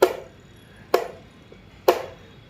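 Gunda berries cracked open with a pestle for pickle, three sharp, heavy thuds spaced about a second apart, each with a short decay, close by and with no talk.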